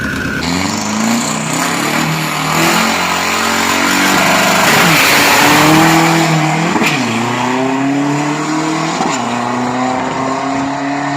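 Pro 3000 pickup truck with an F55 1.9 turbo engine on a 402 m drag practice run, its engine roaring loud and close with repeated rising pitch sweeps through the gear changes. No voices are heard.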